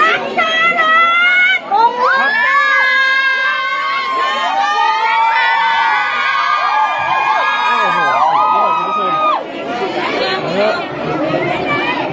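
A crowd of Lao fans in Laos screams and cheers to welcome the arriving Miss Grand Thailand 2022 contestants, with loud, sustained high-pitched shrieks and overlapping chatter close by for the whole stretch.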